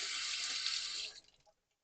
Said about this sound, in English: And we could run this under some cool water.